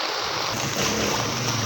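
Floodwater rushes along a street in Antipolo, a dense, continuous broadband wash of flowing water heard close and loud with no pauses.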